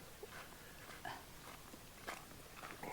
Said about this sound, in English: Now the soy dogs attack us.